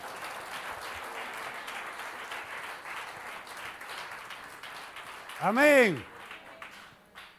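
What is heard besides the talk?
applause for the Lord in a church service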